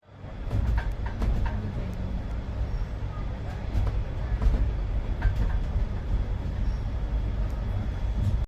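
Marudhar Express with brand-new LHB coaches rolling through Zafarabad Junction railway station, a steady, loud rumble and rattle of wheels and coaches that holds unbroken from start to finish, with faint higher clanks scattered through it.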